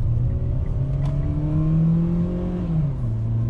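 A Mitsubishi Xpander Cross with a 1.5 engine and four-speed gearbox pulls hard from inside the cabin, the loud engine note climbing steadily before easing off.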